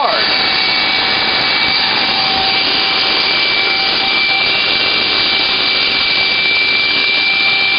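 A Hoover vacuum cleaner runs loud and steady at close range with restored suction, a constant high whine and airy roar holding level throughout with no break.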